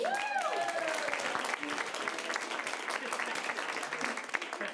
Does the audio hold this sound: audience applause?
yes